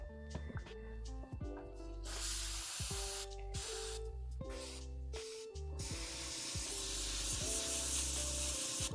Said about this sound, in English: Spray through brush.